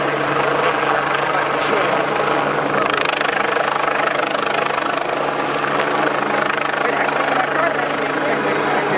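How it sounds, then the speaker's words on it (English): A BK-117 helicopter hovers high at an airshow, its rotor and turbine a loud, steady roar throughout, with a commentator speaking over it. "Up he goes nicely, holds it, holds it. Sitting nice and high in the hover."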